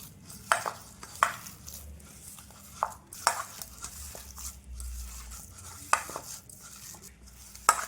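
Flattened rice is mixed with grated coconut by hand in a bowl, giving soft, irregular squishing and rustling with a few sharp clinks against the dish, close and fairly quiet.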